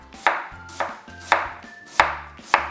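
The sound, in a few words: knife cutting an onion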